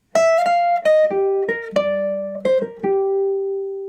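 Single-note jazz line over a jazz standard, a quick run of plucked notes that settles onto a held final tone, heard alone and close.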